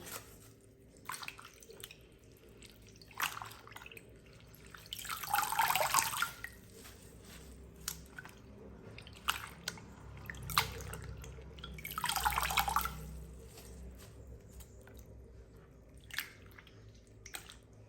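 Henna leaves washed by hand in water, with soft drips, squishes and two longer swishing splashes, close and quiet.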